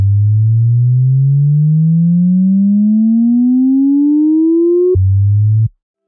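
Synthesized uplifter riser built in FL Studio: a loud, pure sine-like tone sweeps steadily upward for about five seconds, pulsing gently, then drops abruptly to a low tone that holds briefly before cutting off.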